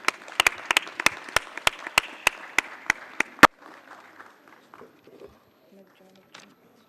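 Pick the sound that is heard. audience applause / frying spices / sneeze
audience applause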